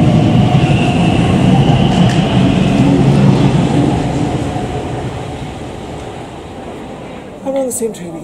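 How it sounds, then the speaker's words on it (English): An Elizabeth line train in London runs steadily with a loud rumbling roar and rail noise that gradually quietens, probably as it slows, followed by a brief squeal near the end. "I'm on the same train again, heading back to Paddington."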